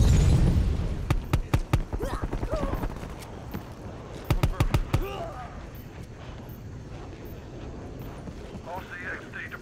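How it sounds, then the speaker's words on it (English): In Call of Duty: Cold War, a flashbang grenade goes off with a heavy, muffled boom at the start, followed by rapid rhythmic gunfire bursts and game effects, while voices talk over the action. "Flashbang going out."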